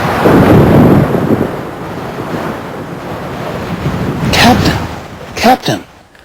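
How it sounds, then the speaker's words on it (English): Stormy night effects: a loud rumbling roar of wind and thunder swells at the start and fades to a low, gusty wash, then brief bursts of a voice break in near the end. "It was a dark and stormy night."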